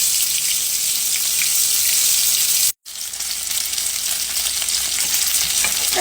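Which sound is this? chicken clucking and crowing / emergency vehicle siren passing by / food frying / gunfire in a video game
food frying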